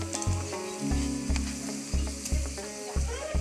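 Mashed potatoes tossed into a pan of browned onions, frying with a loud close sizzle and repeated scraping stir strokes in a steady rhythm, no voices.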